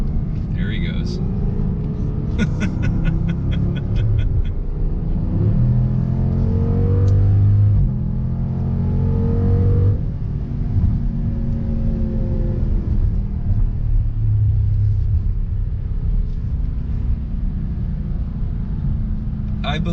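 A 2019 Dodge Durango SRT runs at full throttle on a racetrack, a rumbling engine note climbing and fading at a distance beneath close conversation.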